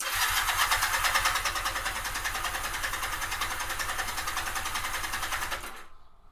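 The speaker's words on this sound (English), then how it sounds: "we're going to crank it till it quits building pressure" A 2009 Honda Rebel 250 engine cranks steadily with the throttle wide open during a compression test, a loud close rhythmic chugging of the starter that continues for several seconds and then cuts off.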